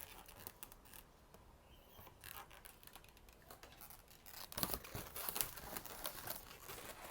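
Scissors snipping off the ends of twisted balloons while making a balloon bow, heard as faint, close crinkles and a few soft cuts with a slightly stronger snip near the end.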